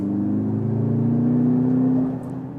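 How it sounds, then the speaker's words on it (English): A Mercedes GLC 63 AMG engine and exhaust, relayed through a sound actuator, drones loudly and steadily while cornering, its pitch rising gradually as it pulls, then easing off near the end. "Sound actuator is actually recording the sound from the exhaust"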